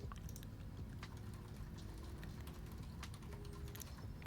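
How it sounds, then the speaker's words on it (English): Rapid clicking of keys typed on a computer keyboard at a gaming desk, a steady close patter of keystrokes heard on its own. "Can you hear my keyboard ASMR?"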